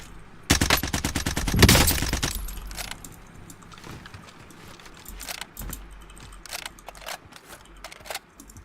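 Rapid bursts from a G3A3 rifle at a bridge in Call of Duty Warzone, one long loud volley followed by scattered single shots.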